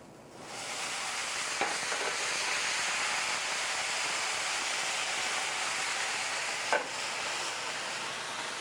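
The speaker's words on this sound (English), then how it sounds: "I'll add some shallot, and I'll deglaze this" Shallot in a hot pot deglazed with Pinot Gris verjus, giving a steady, loud broadband sizzle and hiss with a couple of brief clinks of stirring, no voices.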